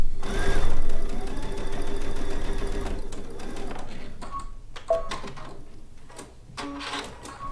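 A sewing machine stitches down binding on a quilt in a home studio, a loud close whir at first that keeps running more softly, broken by a few clicks and thumps toward the end.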